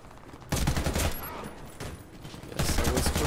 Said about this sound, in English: I think there's somebody shooting